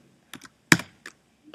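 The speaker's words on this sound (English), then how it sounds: "I'm exactly typing in 1900." Several sharp key clicks on a computer keyboard, spaced irregularly with one louder press in the middle, close and clear against near silence.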